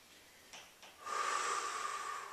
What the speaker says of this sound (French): 2-3 respirations ici.